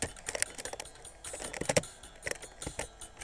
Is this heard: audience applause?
no